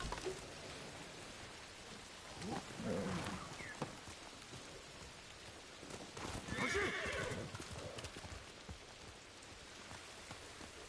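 A horse neighs and its hooves clip-clop steadily in Ghost of Tsushima, with rain falling throughout and two louder whinnies rising above the hoofbeats.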